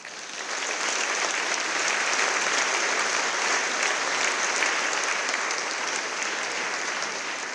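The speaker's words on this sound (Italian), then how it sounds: "Un applauso al Presidente che vedo nel primo palco" Steady, sustained applause from a large theatre audience, a dense wash of clapping that holds at an even level throughout.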